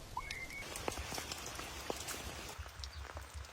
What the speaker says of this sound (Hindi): सुबह उठो और हर तरफ सिर्फ बारिश।